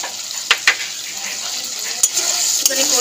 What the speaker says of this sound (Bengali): সর্ষে পোস্ত দিয়ে অল্প একটু কষিয়ে নিচ্ছি